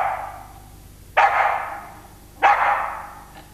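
A dog gives two loud, sharp barks about a second apart, each trailing off into a short echoing tail, with no voices.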